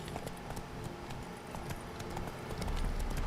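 Horse hooves galloping in The Witcher 3, a steady rhythmic clip-clop of hoofbeats running continuously over soft ambient wind, moderately quiet and close.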